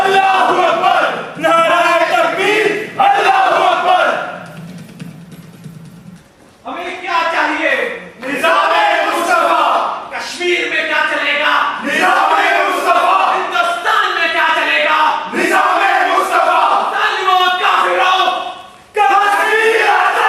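A crowd at a militant rally in Kashmir roars a battle-cry chant in reply to a leader's takbir call, with loud massed voices in repeated waves alternating with a lone shouting leader.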